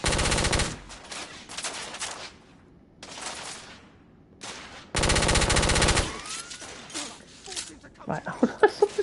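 Video game machine-gun fire rattles in dense, loud sustained bursts, several long volleys broken by pauses, followed by a string of sharper individual shots near the end.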